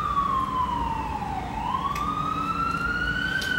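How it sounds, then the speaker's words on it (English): An emergency vehicle siren wails past on a New York street, its steady tone falling and then rising again as it passes, loud and close over constant traffic rumble. "There goes them New York sirens."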